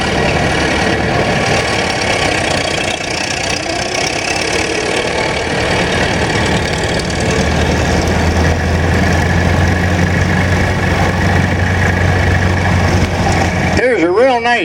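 A Massey 55 diesel tractor idling at a vintage tractor show, a steady loud engine rumble throughout, with background noise and a brief clattering burst at the end.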